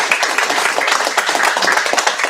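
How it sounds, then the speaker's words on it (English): An audience claps for educators at a live education-journalism event, a dense, steady round of applause that holds at an even level throughout with no voices standing out. "I think educators deserve a round of applause,"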